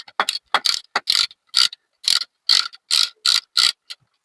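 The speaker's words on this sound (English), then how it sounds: "We're going to crack this nut and get this cable out." An 11mm socket on an extension and wobbly bar cracking loose a speedometer cable nut on a gearbox, a close series of about a dozen sharp ratcheting clicks in a steady rhythm.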